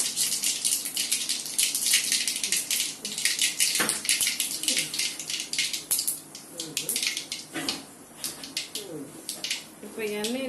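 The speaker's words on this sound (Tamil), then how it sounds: "கடுகு நல்லா பொரியுது. கடுகு பொரியுது, சத்தம் கேட்குது பாருங்க." Mustard seeds popping and spluttering in hot cooking oil for a fish curry, a dense continuous sizzle with sharp crackles throughout while someone speaks over it.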